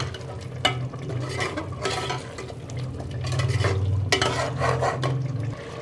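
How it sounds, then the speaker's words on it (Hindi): Green chilies being fried and stirred in cooking oil for aloo gosht, a soft sizzle under repeated scraping and clinking of a spoon against the pot, with sharper clanks at intervals. "कुकिंग ऑयल डालने के बाद इसको अच्छी तरह से मिक्स करेंगे, और ये सब्ज़ मिर्चें डाल के ना इसको अच्छी तरह से भूनेंगे"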